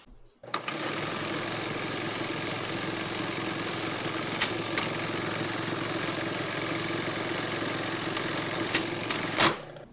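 A Singer Class 71 sewing machine stitches a buttonhole with a fast, even, close mechanical chatter that runs steadily for about nine seconds, broken by a few sharp clicks.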